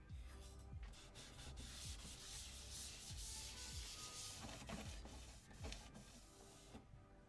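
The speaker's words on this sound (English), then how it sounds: "What a great little polisher." A small polisher running on an original Xbox console gives a faint, steady rubbing whir with repeated scraping strokes and soft knocks throughout.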